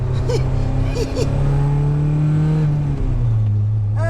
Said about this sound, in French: On entend bien le moteur, hein.